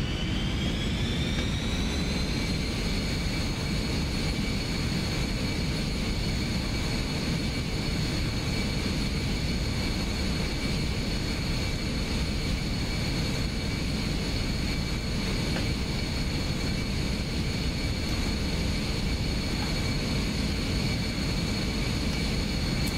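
Jet engines of an airliner in a VR flight simulator game spool up for takeoff, a loud continuous roar with a rising whine that settles into a steady high tone, no talking.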